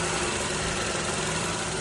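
A 2014 Toyota Camry with a 2.5-litre petrol engine idles steadily, a close, even hum with a constant low rumble and no voices.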